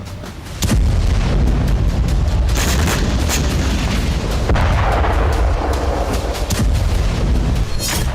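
A bomb blast in Syria caught in news footage, a loud sustained rumble with a sharp low boom near the start and a continuing roar of debris and dust.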